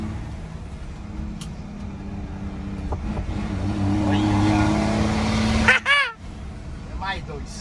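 A car engine roars and revs with a rising drone under background chatter, ending in a sharp burst before idling down.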